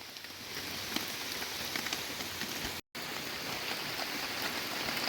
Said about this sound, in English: that's enough of this rain